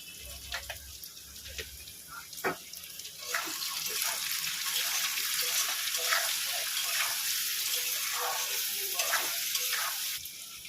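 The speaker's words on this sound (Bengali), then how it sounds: "আলুটা একসঙ্গে ভেজে নেব" Cut potatoes fry in hot oil with salt and turmeric. A few clinks are followed by a louder, steady sizzle that swells after a few seconds and carries on close by.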